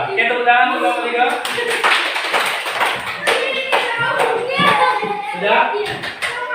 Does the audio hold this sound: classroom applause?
yes